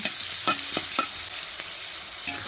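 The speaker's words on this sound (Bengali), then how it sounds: "লবণ আর হলুদ দিয়ে আমি ভালো করে লাল লাল করে ভেজে নিতে হবে।" Vegetables and greens frying in a pan with salt and turmeric: a steady, loud sizzle throughout, with a few sharp scrape-and-stir clicks of a utensil against the pan, close up and without voices.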